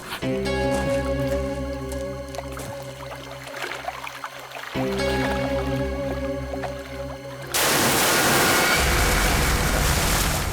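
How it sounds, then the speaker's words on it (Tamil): Something drops into water, setting off a sudden loud splash and a sustained rush of churning water that cuts in after a stretch of music. "தண்ணிக்குள்ள ஏதோ விழுந்த மாதிரி இருக்கு."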